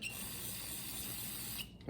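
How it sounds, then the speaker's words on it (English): AMSOIL brake and parts cleaner is sprayed onto a blue shop towel: a steady, close aerosol hiss runs for about a second and a half, then cuts off. "It never hurts to use a little AMSOIL brake and parts cleaner."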